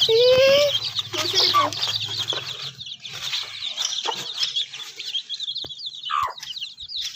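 A hen clucks among her chicks as they peck at scattered grain, with rapid, high peeping from the chicks and repeated low clucks close by, continuing throughout.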